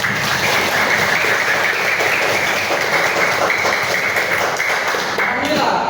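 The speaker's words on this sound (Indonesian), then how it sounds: "Ya, baik, tepuk tangan." A classroom of students claps together, a dense and steady patter of applause that runs the whole time with voices mixed in.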